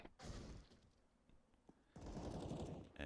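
AK rifle fire in the CS:GO video game, bursts of rapid automatic shots, a short burst early then a sustained loud volley in the final second, with fainter shots between.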